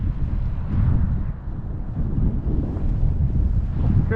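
Strong, cold wind buffets the microphone outdoors by a roadside, a loud continuous low roar that gusts and surges throughout with no voices.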